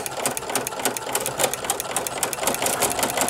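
A Baby Lock sewing machine stitches steadily with a ruffling foot attached, giving a continuous close whirring hum with a rapid mechanical clatter and regular pulses of the ruffler gathering the fabric.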